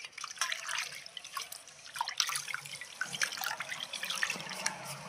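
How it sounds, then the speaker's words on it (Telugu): Water running from a tap over a copper kalash as it is rinsed, a soft continuous splash and trickle with uneven droplet spatters, fairly quiet and close, with no talking. "ఇప్పుడు నేను కడిగేస్తున్నాను వాటర్ తోటి."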